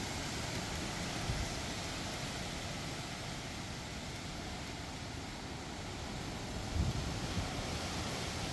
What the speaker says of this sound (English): Outside is windy.